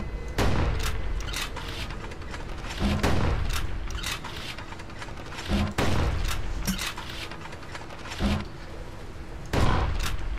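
Shots from the player's gun in the video game Bastion, a series of punchy blasts spaced a second or two apart over a low ambient background, fairly loud and close.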